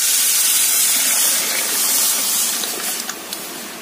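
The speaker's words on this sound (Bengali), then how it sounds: "আর এটাকে এখন ফোড়ন দিয়ে দিই।" Spices hit hot oil to temper a tamarind dal, releasing a loud, close hiss of steam and sizzling that rushes strongly at first and then eases, with a few sharp pops near the end.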